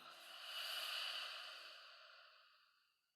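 A slow, breathy exhale during a guided breathing meditation, a soft airy hiss that swells, then fades out over about three seconds, heard alone and close.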